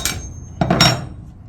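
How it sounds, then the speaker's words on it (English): Short metallic clanks and knocks as a wrench works on an AR15 flash hider muzzle device, with one brief tap and then a quick pair of sharp hits close by. "So we'll take our wrench here, torque it down,"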